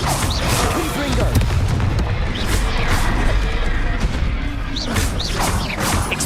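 Confringo spell explosions in Hogwarts Legacy, a dense run of booming crashes and whooshes in the middle of a busy magical fight, with a voice calling out over the noise.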